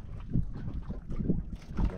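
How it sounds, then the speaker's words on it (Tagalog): Strong south wind at sea buffets the microphone aboard a small fishing boat, a steady low rumbling roar with gusty swells throughout, loud and close with no talk. "Grabing hangin yan, timog yung hangin."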